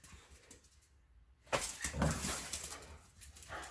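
Daisy May, a dog inside a workshop, lets out a few soft whimpers and yips after a quiet pause, close and fairly faint, with low rustling around them.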